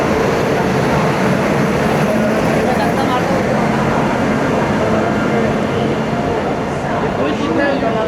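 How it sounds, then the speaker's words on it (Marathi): Hussain Sagar Express to Hyderabad arriving at a station: a loud, continuous roar of the moving train fills the scene, with a person talking over it. "2:15 वाजता ट्रेन आलेली आपली"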